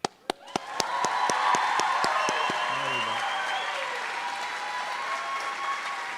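Steady applause and cheering from a large crowd at a police recruit class graduation, starting with a few sharp claps and building into sustained clapping that holds to the end.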